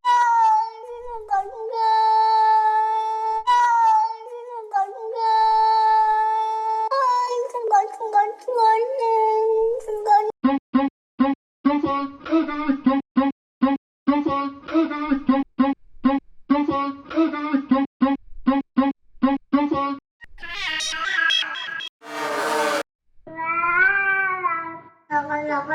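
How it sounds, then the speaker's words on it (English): Cat meows from a music sample pack play as looped, pitched samples, long tonal meows followed by rapid chopped rhythmic meow stutters and a few higher squeals, loud and close. "These are all samples and loops that she created with cat and cat textures,"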